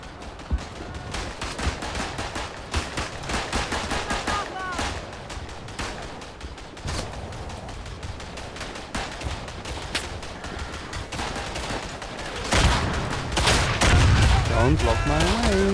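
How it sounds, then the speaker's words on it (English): Gunfire from a Ruby pistol in the World War I shooter Verdun, with rapid shots and explosions among battlefield noise, loud and dense throughout, heaviest toward the end. "The Ruby. Yeah, my favorite pistol."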